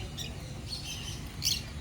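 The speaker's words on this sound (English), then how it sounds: "Lots of beautiful birds in here." Birds in a Singapore bird park give a few faint, short high chirps over a low, steady background hum, with no talking.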